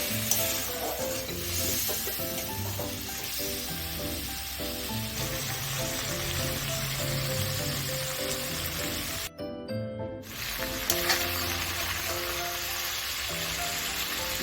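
Spice paste sautés in a pan with a little water for a live freshwater prawn dish, giving a steady close sizzle and crackle with light stirring scrapes and a brief drop near the middle.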